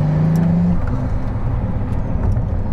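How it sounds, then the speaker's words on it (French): A Pagani Huayra Roadster BC twin-turbo hypercar pulls hard under full throttle as its turbos come on, giving a loud, steady, close engine roar with a rising tone early on. "Allez, pied dedans, petite dérobade de l'arrière, les turbos qui s'enclenchent."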